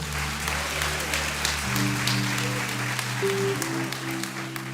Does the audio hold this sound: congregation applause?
yes